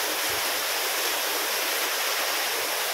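Water from two pump motors gushing into a farm plot, a loud, steady broadband rush like a small waterfall, continuous throughout with no voices.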